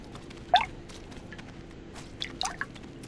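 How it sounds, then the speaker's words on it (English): In the Lord of the Rings Online video game, dwarves throw rocks into water, and a few light plopping splashes and drips sound faintly over a quiet background, one near the start and a small cluster toward the end. "We got Bori and them still throwing down rocks in the water."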